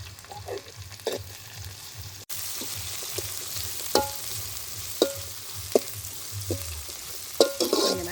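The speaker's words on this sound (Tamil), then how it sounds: "வெங்காயத்தோட கறிமிளகாயும் சேர்க்க போகிறேன். இது ரெண்டும் கொஞ்சம் எனக்கு வதங்கி வரணும்." Onions and curry chilies sauté in hot oil in a wok, a steady close sizzle broken by sharp scrapes and clinks of a stirring utensil.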